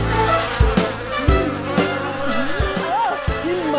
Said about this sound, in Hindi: इन मच्छरों को तो मैं